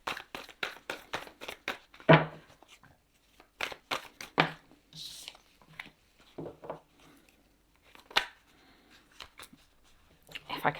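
Tarot cards are shuffled in quick riffling bursts, with brief pauses and a voice speaking in between.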